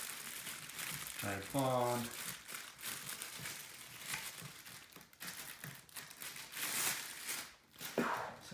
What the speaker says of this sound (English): Okay, I'm gonna remove the plastic bag,